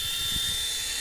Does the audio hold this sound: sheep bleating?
no